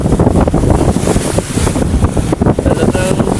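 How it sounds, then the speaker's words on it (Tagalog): Strong wind buffets the microphone on a boat at sea, a loud continuous roar with gusty rumbling and water wash, steady throughout without clear talk. "dito malakas ang hangin"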